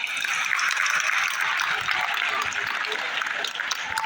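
A classroom of students claps for a classmate in a brief burst of dense, close applause that holds steady for a few seconds.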